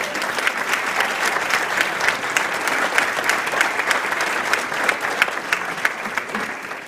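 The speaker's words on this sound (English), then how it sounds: "give a big round of applause to Leo Baumann from Nokia" Sustained applause from a crowd, dense and steady clapping that fades slightly toward the end.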